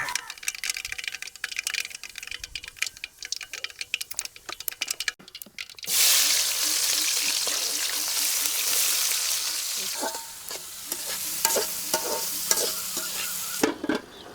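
Onions frying in oil with fenugreek, mustard seeds and cumin for a Nellore-style prawn dish, stirring and clinking over a steady sizzle that swells loudly midway, with a little faint background sound.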